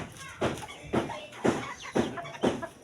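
Gamecocks kept as fighting roosters cluck in a short, regular series of about five sharp calls, each roughly half a second apart, close by and moderately loud over a quiet background.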